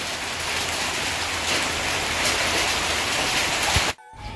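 Rain falls steadily on a balcony garden of potted seedlings, a dense, even hiss of drops that stays loud and unbroken before cutting off sharply near the end.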